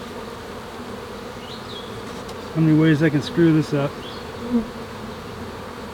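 A steady swarm of honey bees buzzes at a hive during swarm prevention work, a close, constant drone that continues while someone speaks briefly over it midway.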